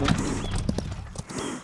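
Horse hooves clop and pound in a fast gallop within an animated fairy-tale scene, loud and near, with a few distinct strikes over rumbling background.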